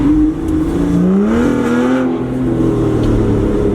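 An Aston Martin Vanquish S Ultimate engine revs loud and close, its pitch climbing and falling in a sustained roar with no voices over it.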